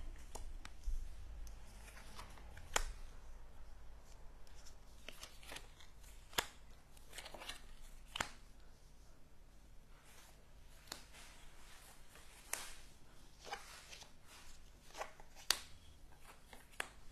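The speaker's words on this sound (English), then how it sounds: "let's flip all the cards and start the reading" Tarot cards are flipped over for a reading, giving faint, scattered soft taps and crisp card snaps spread over a quiet room background.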